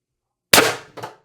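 Beeman air rifle firing a 12.7 mm steel ball bearing on 1100 psi high-pressure air, a single sharp loud crack followed by a short echoing tail and a brief second knock.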